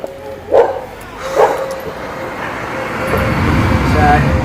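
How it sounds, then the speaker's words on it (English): A Springer Spaniel barks behind a fence, two sharp barks close together near the start, then passing road traffic swells into a steady background rumble. "we've got a Springer Spaniel just behind that fence there"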